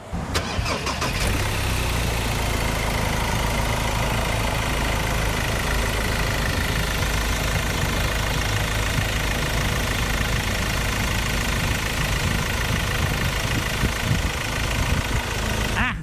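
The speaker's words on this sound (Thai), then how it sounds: "เดี๋ยวฟังเสียงเครื่องกันไป" A 2017 Ford Everest 2.2 Titanium+ diesel SUV with about 90,000 km starts and then settles into a steady, loud idle, an even engine hum heard close up for the whole stretch.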